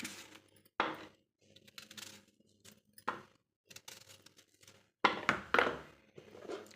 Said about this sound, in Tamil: வெங்காயத்தை நறுக்கிக்கலாம்